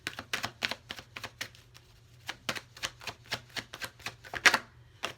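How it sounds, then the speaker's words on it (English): Rapid papery clicks and riffles come in quick bursts with short pauses between them, close and fairly quiet, as tarot cards are shuffled by hand. "I'm going to go ahead and shuffle the cards"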